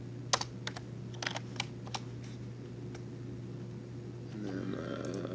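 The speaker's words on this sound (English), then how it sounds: "just pushing the C button on your keyboard will get you into circle" Someone types on a computer keyboard in a quiet room, tapping single keys in a scattered, irregular rhythm over a steady low hum, with a brief burst of broadband rustle near the end.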